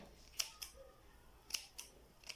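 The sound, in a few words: scissors trimming thread on leather bow shoe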